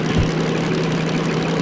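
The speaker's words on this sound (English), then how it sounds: "I'm just letting the engine kind of rev up a little bit here" Diesel-mechanical locomotive engine in the Derail Valley train simulator, a steady low droning rumble with a firm tonal hum, revving evenly and continuously throughout the short stretch.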